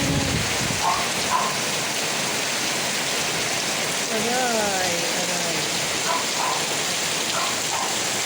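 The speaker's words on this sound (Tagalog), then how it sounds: "Ang ulan." Heavy rain pours down in a constant loud hiss and patter, with a person speaking briefly and other faint voices over the downpour.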